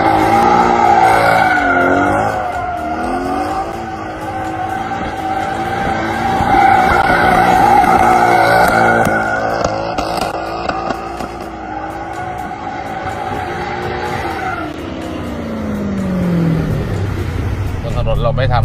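A 2008 Mercedes-AMG C63 with a V8 engine, driven in sport mode, keeps up a steady, fairly loud engine drone throughout, with people talking over it inside the car.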